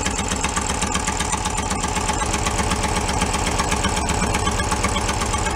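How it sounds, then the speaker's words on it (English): An abandoned Porsche 914 station wagon's engine idles with an exhaust leak under the intake, giving a loud, steady, close rhythmic chuffing and ticking pulse that continues throughout. "So it's got an exhaust leak right under the intake because it's real hot too."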